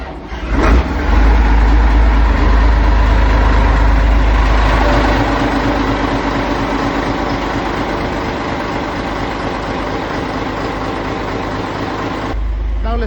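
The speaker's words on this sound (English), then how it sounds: "Main switch. Engine start." A boat engine on a Japanese boat cranks and catches with a sudden burst, then settles into a steady, loud, unbroken running rumble that continues to the end.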